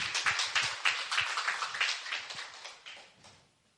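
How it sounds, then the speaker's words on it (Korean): A church congregation breaks into applause, a brief burst of clapping that starts as quick claps and fades out over a few seconds. "박수합시다."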